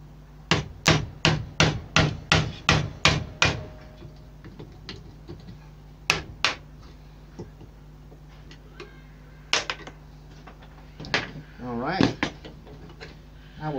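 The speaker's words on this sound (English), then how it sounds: "I'm going to use the wood chisel to chip the rest of this material off." A wood chisel chipping leftover material off during a bandsaw fence clamp repair, a rapid run of about a dozen sharp close knocks, then scattered taps and scrapes with brief background talk.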